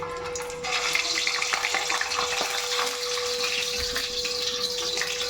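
Whole uncut eggs crackle and splutter in hot oil for a spicy North Karnataka-style egg curry, a loud, continuous hissing spatter with no talking.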